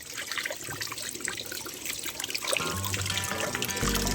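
Tap water runs steadily into a sink while freshly cut fish is washed, a continuous close trickle and splash that grows slightly fuller near the end, with no talking.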